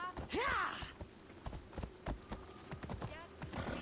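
A horse's hooves clip-clop along twisting paths in Assassin's Creed Odyssey in a fairly close, uneven rhythm, with a snort or whinny near the start and talk running underneath.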